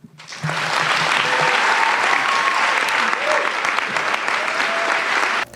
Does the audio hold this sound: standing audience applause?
yes